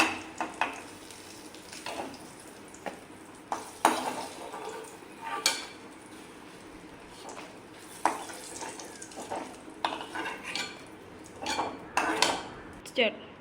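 Cut pappadam frying in oil in a pan and being scooped out: bubbling sizzle under repeated metal clinks and scrapes of a ladle against the pan, close by.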